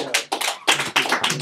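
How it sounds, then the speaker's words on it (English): A small audience claps for presenters in a room, a short burst of close, uneven handclaps from only a few people. "One round of applause"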